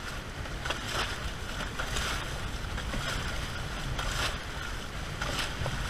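Squirt trimaran sailing through choppy bay water during a Texas coastal race, with a steady rush of hull wash, slapping chop and wind noise, close and continuous with no talking.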